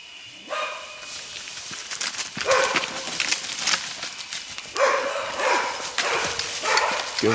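A small pig-hunting bailing dog named Minty barks out in the Australian bush during a hunt, its yaps scattered and moderately distant amid rustling movement and other commotion.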